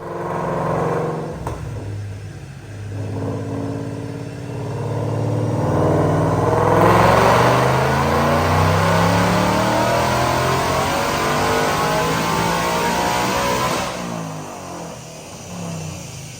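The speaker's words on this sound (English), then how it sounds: "But right now, check out this dyno pull." Whipple Stage 2 supercharged 2016 Mustang GT with a manual transmission, on 93 octane, revs hard on a DynoJet dyno, building from idle into a long, loud full-throttle pull of about seven seconds before dropping back, with no talk.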